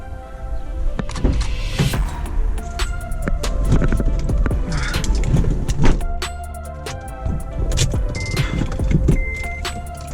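A Honda RSX-S fitted with new motor mounts pulls away on a drive. Close cabin and mechanical noise comes with clicks and rattles, and engine sound rises in broad swells.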